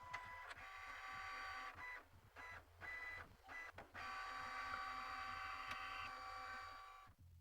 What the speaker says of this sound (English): Within moments, your to-do list will arrive out of your printer.